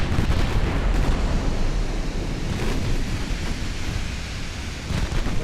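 Storm in the naval warfare game Ultimate Admiral Dreadnoughts: a dense, continuous roar of wind, rain and rolling thunder with heavy low rumble, steady and loud with no talk.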